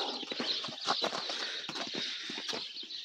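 A mare wearing an English saddle walks, her hooves producing a quick, close, irregular clip-clop over a faint background.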